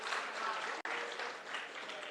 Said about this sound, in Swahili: Ya mwisho, simpigie makofi treasury team yote.